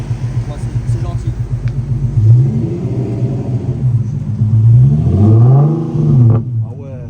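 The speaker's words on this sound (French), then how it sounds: "Ouais, c'est très 350Z comme bruit." A hybrid car fitted with a Nissan 350Z engine revs in two rising and falling swells over a low idling rumble, close and loud, with people talking over it.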